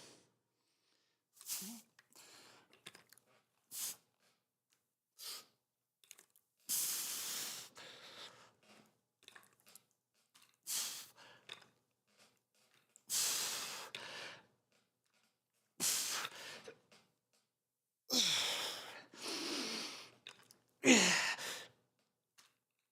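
Heavy breathing from someone doing a push-day workout in a home gym: loud, forceful exhales, sighs and gasps come in separate bursts between quiet pauses, close to the microphone.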